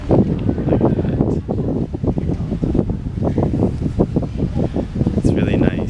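Surprisingly strong, cool wind rushes across the microphone outside a church during a pilgrimage, a continuous gusty roar with fluttering bursts throughout.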